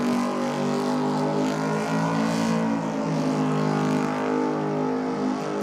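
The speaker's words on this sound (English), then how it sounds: "here's the little Mazda 1000 utility" A Mazda 1000 utility race car's small engine revs hard and holds high RPM in a sustained, loud buzzing drone that rises and falls slightly, no talking.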